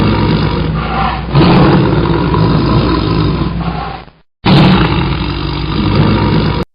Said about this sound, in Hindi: परछाई के देखते ही शेर जोर से दहाड़ा।